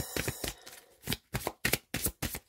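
Tarot cards being shuffled and drawn by hand, with quick riffling bursts and crisp slaps of cards landing in an uneven rhythm, loud and close with no talking.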